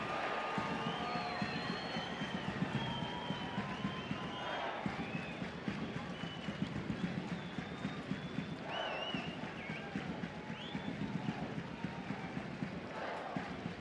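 Home crowd at a youth-team football qualifier between Kazakhstan and England, a steady broad roar of cheering fans filling the stadium, with a commentator talking over it.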